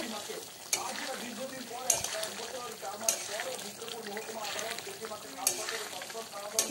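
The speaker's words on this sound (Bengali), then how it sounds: "আরও 1 থেকে 2 মিনিট রেঁধে নিলেই তৈরি হয়ে যাবে আলু ও সয়াবিনের কারি।" Potato and soybean curry sizzles steadily in a pan while a utensil stirs it, with occasional louder scrapes and clinks against the metal recurring every second or two.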